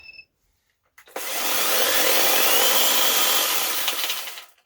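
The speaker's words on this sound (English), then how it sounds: "this particular battery operated chainsaw takes a 40-volt battery" A 40-volt battery-powered electric chainsaw switches on after a brief quiet moment and runs steadily at close range with a loud, even whine and rattling chain, then spins down at the end.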